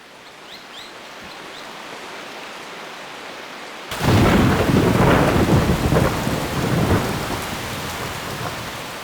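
Heavy rain falls during a storm in the Ecuadorian highlands. A soft steady patter gives way to a sudden loud roll of thunder that rumbles on under the downpour, slowly fading.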